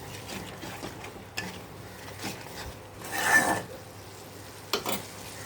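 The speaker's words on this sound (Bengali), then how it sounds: "এটাকে নেড়ে নেব।" Fish frying in a pan with poppy seed paste, a soft steady sizzle broken by scraping stirring strokes and a few louder clatters of the spoon, fairly close and quiet with no talk.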